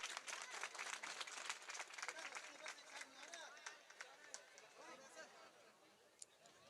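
Audience at a bhajan competition prize-giving ceremony claps vigorously, sharp overlapping hand claps mixed with crowd chatter and voices, gradually thinning toward the end.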